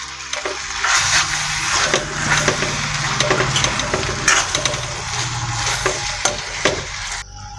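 Chicken curry with a spoonful of chicken masala and fresh coriander stirred in a hot pan, with sizzling and repeated scraping strokes of the spoon, close and fairly loud, no talking.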